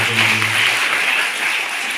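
A room of school children claps hard together, a dense, even patter of many small hands sustained for a couple of seconds without voices.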